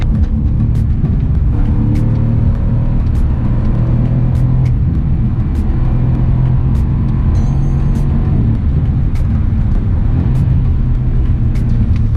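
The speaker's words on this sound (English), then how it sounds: "the engine tone comes up, which you can hear" Loud, steady low engine drone from inside a Mercedes C63 AMG in sport mode, a deep rumbling tone that holds and swells slightly, with faint ticking clicks.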